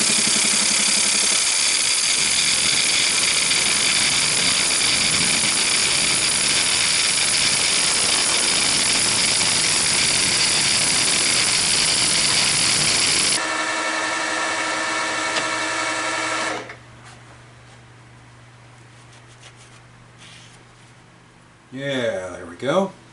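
A table saw cuts a piece down almost to size with a loud, steady whine for about thirteen seconds, then the tone shifts and the blade spins down to a low hum before a brief closing clatter.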